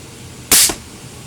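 A single sharp report from a Crosman Vantage air rifle firing a 7 grain dome pellet, loud and close, with a brief crack and short ringing decay before quiet returns.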